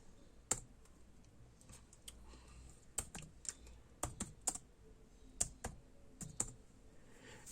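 Faint, sparse keystrokes on a computer keyboard, a few irregular soft clicks and taps spread over several seconds in a quiet room.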